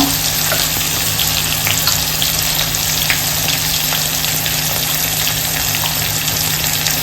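Ingredients for val khichdi sizzle steadily in a hot pan as they are sautéed, a continuous close frying hiss broken by occasional soft stirring scrapes.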